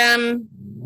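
A dog gives one loud, close bark that breaks off and is followed by a short rising yelp, with no talk over it.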